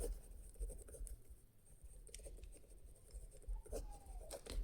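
Pen writing a maths solution by hand, a faint, steady scratching and tapping on paper that runs throughout with no voice over it.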